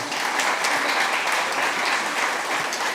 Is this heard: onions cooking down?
no